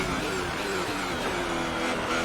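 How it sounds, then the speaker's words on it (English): A Formula 1 race car engine in the video game F1 2018 holds a steady high-pitched whine throughout, loud and continuous with no voices. "but the engine's much more talkative"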